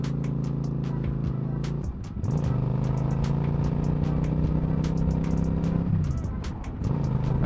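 A motorcycle with a windshield fitted rides along a road in the middle of the day, its engine a steady drone with two brief dips in revs, and wind rumble and faint ticking over it.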